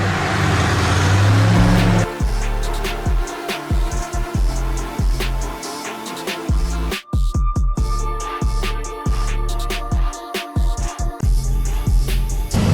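A race car engine runs hard on a dynamometer, very loud and close. It revs up with crisp pops and crackles, cuts back to short bursts, then roars again.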